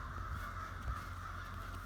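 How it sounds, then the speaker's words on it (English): Crows caw from the trees on a morning nature walk, over steady wind-like background noise; the calls are moderately loud and somewhat distant. "The birds are going nuts."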